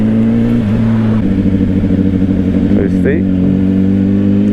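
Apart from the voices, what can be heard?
2025 Honda CBR600RR motorcycle engine accelerating, quick shifter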